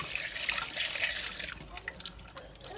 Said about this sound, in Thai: ล้างน้ำก่อน